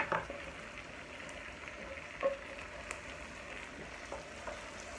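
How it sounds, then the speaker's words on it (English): Vegetables frying in steak juices in a griddle pan on an AGA: a soft, continuous sizzle with a few faint clinks and pops, close by and quiet, with no voices. "Just let that fry off in those nice juices."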